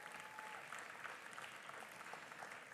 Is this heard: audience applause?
yes